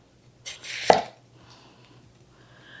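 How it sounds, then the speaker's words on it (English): Knife slicing through a large candy onion on a cutting board: one firm, crunchy cut with a sharp thud against the board, close and loud, followed by quiet. "And I'm just going to slice this big old fat onion here."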